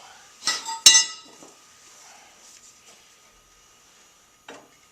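Two sharp metallic clinks close together near the start, then quiet with a faint clank near the end, as a hammer strikes a steel wedge while changing a Farmall Cub tractor tire inner tube.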